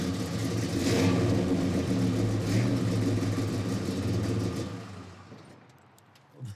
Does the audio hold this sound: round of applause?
no